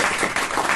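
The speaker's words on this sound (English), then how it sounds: "we're all going to start applauding right now for" A talk show studio audience bursts into applause for a guest's entrance, a dense, loud wall of clapping with slight surges, filling the whole brief moment.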